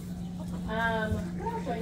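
A chicken gives a drawn-out cluck close by, heard over a low steady hum, on a farm.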